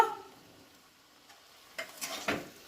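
Dal chorchori with chopped coriander is mixed in a pan, a mostly quiet stretch followed by a short cluster of soft scraping stirs near the end, faint and close.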